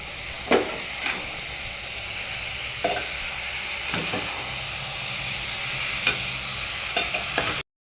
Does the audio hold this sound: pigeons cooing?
no